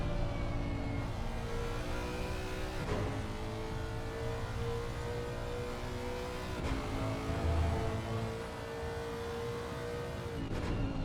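A Ferrari race car at the 24 Hours of Spa holds a steady high engine drone that climbs through the gears, its pitch stepping up in clear shifts across a long pull down the straight.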